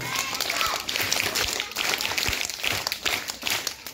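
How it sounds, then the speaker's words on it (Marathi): School students applauding to welcome the newly elected vice captain, a steady wash of crowd clapping lasting several seconds at moderate loudness, with some voices mixed in. "तिचं आपण 3 टाळ्या वाजवून स्वागत करूया."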